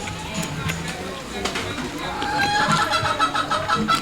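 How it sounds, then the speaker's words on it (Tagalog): Backyard chickens cluck and murmur in an ongoing, moderately close flock chatter, with scattered bird calls over a busy background of voices. "Sarap ang mga manok ko pag nakikita ako nagbibideo. Tumasabay din eh."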